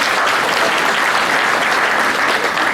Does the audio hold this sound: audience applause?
yes